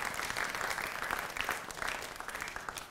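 An audience at a Hindi poetry gathering gives a poet a burst of dense, steady clapping, fairly faint and sustained for the whole stretch.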